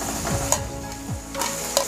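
Boiled pork tipped into a pan of cooked elephant apple, giving a steady frying sizzle with a few quick stirring scrapes and clinks over about two seconds.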